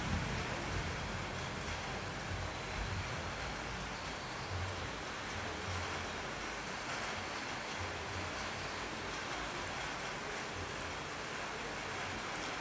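Steady rain pours continuously over Conselheiro Lafaiete, Minas Gerais, Brazil, with thunder in the area, a dense, even hiss filling the whole stretch with low rumbling underneath and no voices.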